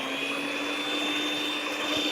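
An electric hand mixer beats three eggs in a bowl for a gluten-free cake batter, giving a steady, loud whine with no break from start to finish.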